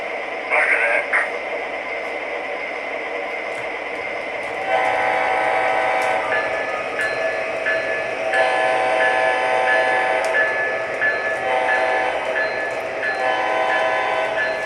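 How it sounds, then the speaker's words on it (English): An O scale MTH Premier CSX AC4400CW diesel model train in Chessie livery hauling freight cars, with a steady motor hum and rolling rumble, electronic engine sound that steps up partway through, and occasional clicks. "Now I got the old Chessie hooked up to a freight train."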